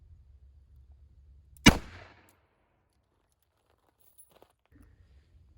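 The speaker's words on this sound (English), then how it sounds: "I'm going to shoot it out of the 4-inch gun to see what happens." A single sharp gunshot from a 4-inch .38 Special revolver loaded with Federal Punch ammunition, loud and close, decaying quickly into near silence with faint handling noises afterward.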